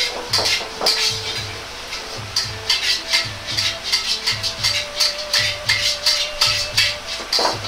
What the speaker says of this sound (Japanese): 弱火でじっくりと乾煎りしていきます。